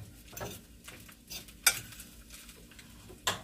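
Rice in a pot is stirred, the spoon scraping and knocking against the side in a few separate strokes, two of them sharper and louder, over a low background hum.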